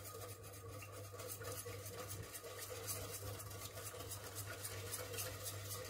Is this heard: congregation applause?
no